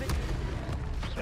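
The Incendio fire spell bursts in Hogwarts Legacy with a loud, booming whoosh of flame up close, overlapping game sounds and a voice.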